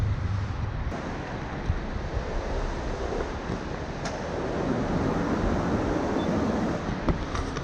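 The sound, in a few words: warm water fountain splashing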